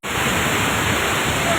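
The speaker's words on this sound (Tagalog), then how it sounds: "Oh, Seven Falls." Seven Falls waterfall roars as a dense, unbroken wash of loud white-noise rush, close and constant for the short stretch with no pauses.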